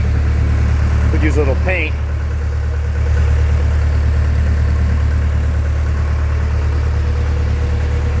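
A Link-Belt 1600 excavator engine idles right after starting, a steady loud low rumble that fills the whole stretch while someone speaks briefly over it.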